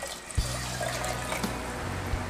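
Two cups of plain vinegar poured into a container for a dill and jalapeno refrigerator pickle brine, a steady close liquid trickle running alone for about two seconds.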